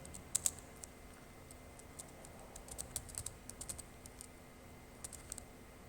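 PHP code being typed on a computer keyboard, soft scattered keystrokes in short irregular bursts, fairly close and quiet, with no talking.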